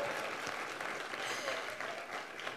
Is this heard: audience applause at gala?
yes